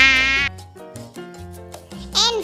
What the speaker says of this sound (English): M for mosquito.